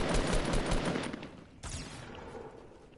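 Rapid video game gunfire, with loud clustered bursts of automatic shots crowding the first second and a half, a sharp fresh volley after a brief lull, then fading echoing shots.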